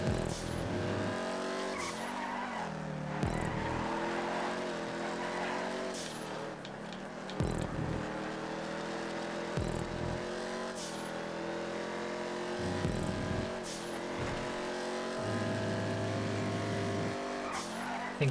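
Muscle cars racing around a GTA 5 track, engines droning steadily with gear-shift dips and repeated tire squeals through the corners, loud and close throughout.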